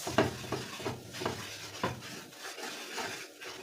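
A spoon stirs two tablespoons of flour in a pan, giving soft scraping strokes in an uneven rhythm over a faint, quiet sizzle, close and alone.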